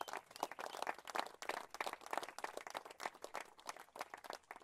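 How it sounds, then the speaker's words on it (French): An audience at the Fête le mur festival in Le Mée-sur-Seine gives participants a round of quick, steady clapping, fairly faint and without talk. "on peut vous applaudir."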